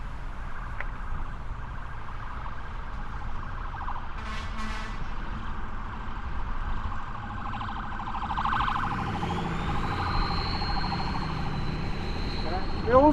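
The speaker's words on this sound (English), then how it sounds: "Hillsborough's ambulance." A Hillsborough ambulance siren sounds amid heavy traffic at a circle, fairly faint and distant at first and growing clearer later, with a voice talking over road noise.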